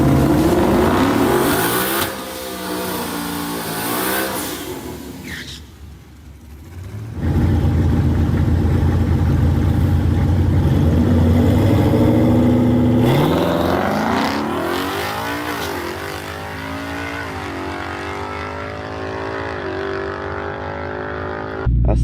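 A twin turbo 2020 Ford Mustang GT at a drag strip revs loudly and accelerates, with rising engine pitch, a brief lull and a second hard pull before the roar fades into the distance.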